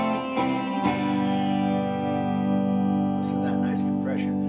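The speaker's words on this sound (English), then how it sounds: "listen to that nice compression." Ibanez Artcore 12-string guitar played through an Ampeg Opto Comp compressor, sustained strummed chords ringing evenly and loud, with a voice talking over them.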